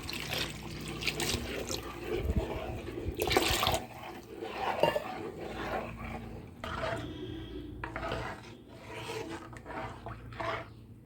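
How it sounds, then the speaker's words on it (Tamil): Water splashes and pours into a pot of fish curry up close, with gurgling liquid and occasional scraping against metal as it is mixed in. "இப்போ நம்ம குழம்புக்கு தேவையான அளவு தண்ணி ஊற்றி நல்லா இதை கரைச்சிடலாம்"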